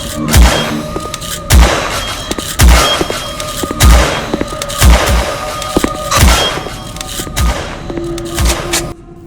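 Gunshots from a cool gun in the sci-fi game Cryospace fire as about eight loud, evenly spaced booming blasts, each with a short ringing tail over a low game backdrop.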